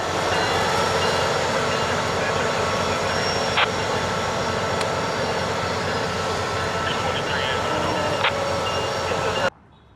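SunRail commuter train P323 pulling away southbound toward Poinciana, a steady loud rumble of wheels and engine holding throughout with a couple of brief sharp clanks, then cutting off abruptly near the end.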